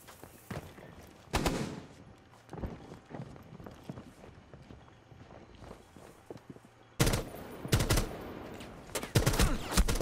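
Gunfire in Rainbow Six Siege from a weapon with heavy recoil: loud bursts of rapid shots, a short burst early on and then dense sustained firing in the last few seconds, with quieter thumps and movement between.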